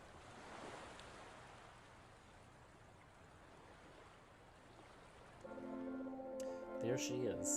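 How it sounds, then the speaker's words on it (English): Ocean waves crash and wash in a video game, Anodyne 2, a soft, steady surf roar that runs throughout, joined near the end by a louder layer of voice or music. "From the darkness, an orange glow, and from the silence, the crashing of waves."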